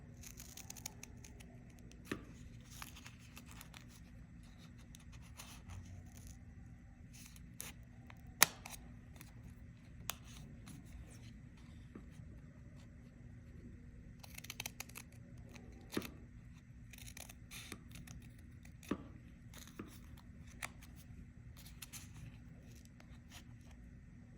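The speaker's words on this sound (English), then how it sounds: "I'm just gonna start over here and I'm gonna cut on my lines." Scissors snipping through folded paper, cutting a radial snowflake along drawn lines; quiet, close snips and faint paper rustles come in irregular bursts against a low steady hum, with no talking.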